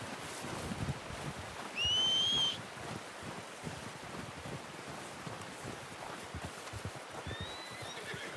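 Horse sounds in the video game Red Dead Redemption 2: a steady outdoor bed of wind and hoof movement, with a short, loud whinny near the two-second mark and a fainter one near the end.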